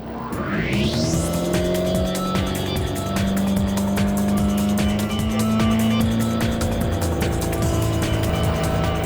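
A 2012 Bayliner 175 BR boat with a 135 hp engine drones loudly while towing a wakeboarder, a close, sustained motor hum with a rising whine at the start and a steady, slightly wavering pitch throughout.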